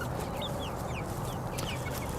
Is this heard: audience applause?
no